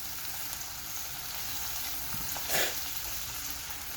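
Peas and carrots are stirred in a hot pan, making a faint sizzle with a short louder hiss partway through, close by and without speech.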